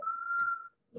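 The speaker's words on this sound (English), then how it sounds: "Why you must whistle?" A person whistles a single steady, clear note for under a second during a primary-school math problem-sums lesson, close and fairly loud, followed by a brief soft sound after a short pause.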